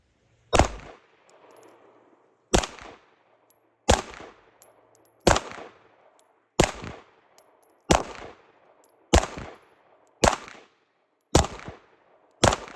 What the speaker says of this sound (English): Now we're gonna shoot some groups on the IDPA target and see how accurate it is.